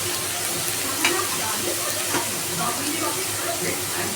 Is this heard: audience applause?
no